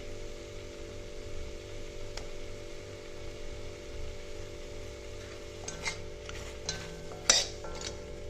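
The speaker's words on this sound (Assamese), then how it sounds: "এয়া আদা নহৰু এড কৰি পেলাই আকৌ অকণমান ভালকৈ লৰাই ভাজি দিছোঁ" A spoon stirs ginger garlic paste and tomatoes frying in a pan for a chicken gravy made without oil, giving soft scrapes and light clinks over a low hum, with a sharper tap near the end.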